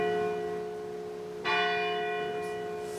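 Church bells ring with sustained, shimmering tones; a fresh strike lands midway, renewing the loud ringing, and the bells keep humming and resonating afterwards without any voices.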